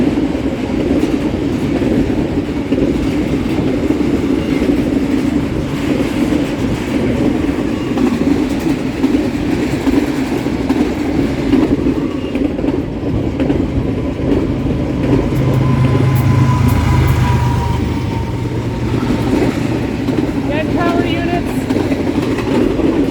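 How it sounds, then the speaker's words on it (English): An exceptionally long train rumbles steadily past nearby, its cars droning and clacking without a break for the full stretch, while people talk excitedly over the noise. "Contender for the longest train I've ever seen."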